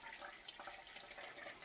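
Kerosene trickles into the tank of a vintage Primus paraffin camping stove, a faint, steady liquid pour with a light splashy texture, close and quiet.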